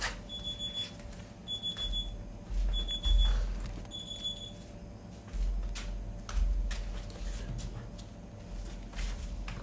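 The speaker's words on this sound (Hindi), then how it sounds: "मेरा अलार्म भी बजने लग गया" Alarm clock ringing for the dawn prayer time in short repeated beeping bursts, rather faint, over the rumbling background of mobile game sounds.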